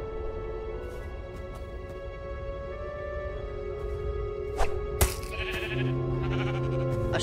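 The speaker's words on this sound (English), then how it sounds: "A sheep?" A sheep bleats a few times over a steady synthesized music bed, with a couple of sharp clicks partway through.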